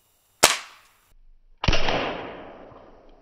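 A high-power .177 pellet gun fires with one sharp, close crack. About a second later a loud impact bursts as the pellet hits an apple, and it fades with a lingering rattling decay.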